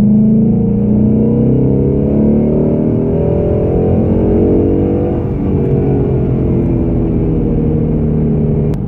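A 2017 Ford Mustang GT's engine drones steadily as the car drives and accelerates, a loud, continuous mid-range roar with layered harmonics that swell slightly midway, heard alone without talk.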